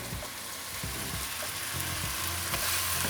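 Herbal leaves dropped into hot homemade hair oil in a pan with kalonji and fenugreek: a steady, dense frying sizzle with scattered low knocks and stirring thuds, close and continuous throughout.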